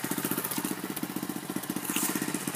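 A pit bike with a stock exhaust idles nearby in a fast, even, lumpy putter, the steady pulses loud and close, with a brief rise in revs near the end.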